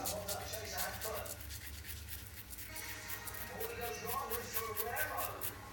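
A shaving brush buffs lather against a face in quick, short rubbing strokes, a soft, close scratchy brushing heard under someone talking.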